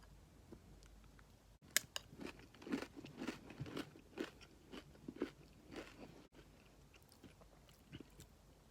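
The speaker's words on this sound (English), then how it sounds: "You could hear the crunch on that." A run of crisp, crackly bites and chewing crunches of woven wheat crackers, close and loud, repeating irregularly for several seconds with no talking.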